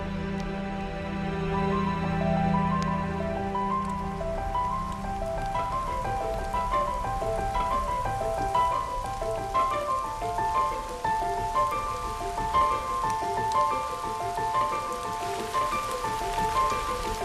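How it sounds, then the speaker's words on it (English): Steady rain shower patters on surfaces in woodland throughout, a dense wash of drops under a faint repeating tonal pattern, with no talking. "A shower like this is so good for people and the environment."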